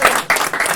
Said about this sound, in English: a big round of applause for Ron for still being with us